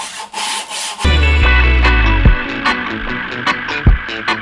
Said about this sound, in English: I'm just doing a really quick test on this Lee Valley bow sander